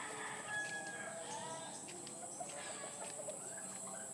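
A hen clucks from a farmyard flock, faint and distant over steady outdoor background noise, with no clear talk.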